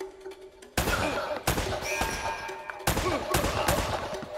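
Gunfire in the video game Uncharted: The Nathan Drake Collection, several loud close bursts of rapid shots with sharp onsets, separated by short pauses and ringing tails.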